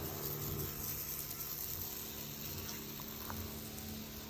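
A small water pump running in a hidden water tank on a 2017 Expedition, a faint steady hum and hiss with a faint trickle of water, continuous throughout.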